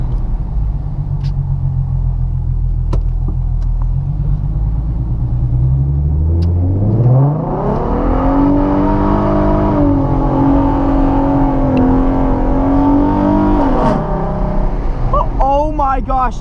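A Ford Mustang's engine revs up hard while driving in the rain with traction control switched off, a loud, close rumble climbing steeply in pitch and holding a high, strained whine before dropping back.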